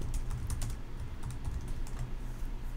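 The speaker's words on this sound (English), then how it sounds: "So I'm just going to type in ERISA audit" Continuous typing on a computer keyboard, rapid clicking keystrokes in an irregular rhythm, close and fairly quiet, with no voices.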